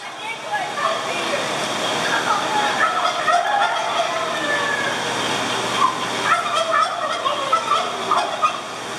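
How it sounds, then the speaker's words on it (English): Turkeys at a fair gobble in repeated, overlapping warbling calls, close and lively, over steady rushing background noise, with someone talking nearby. "There's some good looking turkeys over here."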